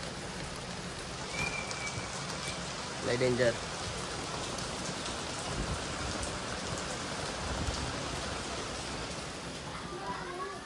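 Heavy rain pours steadily with a dense, even roar, while a person speaks a few words briefly over it.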